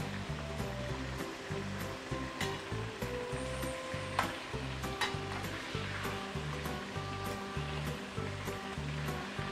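Prawns quick-frying in a wok with oyster sauce give off a continuous close sizzle and bubbling, with a few sharp clinks and scrapes from stirring, plus a low rhythmic hum running underneath and no talking.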